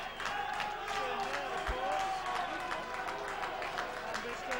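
Rugby league crowd applauding from the far side of the ground during a London versus Keighley Cougars match, a steady distant roar of clapping and cheering that holds for several seconds under a commentator's voice.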